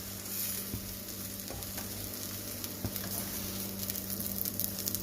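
A cheese omelette fries in a pan with a soft, continuous sizzle and a few light pops and crackles, quiet and without talk.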